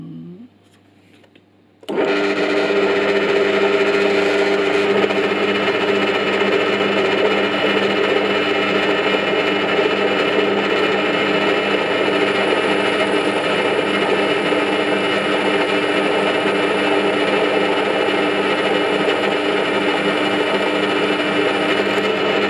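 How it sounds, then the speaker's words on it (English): After a brief quiet moment, a Parkside bench pillar drill starts up and runs with a loud, steady motor whine that holds unchanged throughout. "So let's see if we can drill something"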